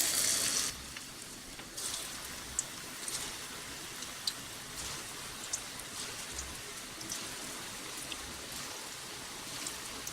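Small portions of oats Manchurian mixture fry in hot oil over a low flame, a steady soft sizzle with scattered faint crackles and pops, with no talk.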